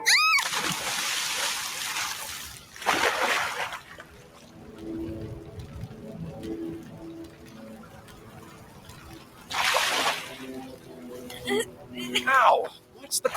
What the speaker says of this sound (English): Don't you ever throw me in the water again!